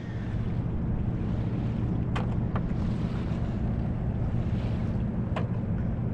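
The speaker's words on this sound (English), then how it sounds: "My friend Norm is driving the boat again." A boat motors across open water on a circumnavigation voyage, a constant low engine drone mixed with wind buffeting the microphone and the wash of waves, with a few brief splashes.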